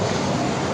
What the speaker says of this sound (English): Our Asiana now cleared for takeoff.